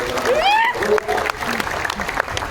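Audience applause welcoming a woman minister to the stage at a Basava culture campaign closing ceremony at Palace Grounds, Bengaluru; steady clapping from a crowd with a voice talking over it, clearly audible throughout.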